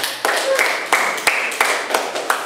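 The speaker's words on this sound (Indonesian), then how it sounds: "terima kasih, tepuk tangan" Classroom of seventh-grade pupils applauding after a group presentation, a dense wash of clapping with a few sharper rhythmic accents, moderately close and steady throughout.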